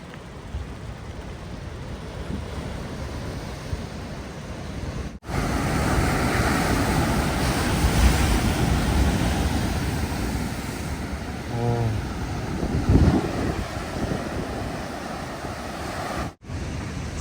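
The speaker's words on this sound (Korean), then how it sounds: "파도 엄청납니다 여러분" Big ocean waves crash along the Goseong coastal road in Gangwon-do, making a loud, continuous broadband roar with surging swells, mixed with strong wind buffeting the microphone. No one speaks.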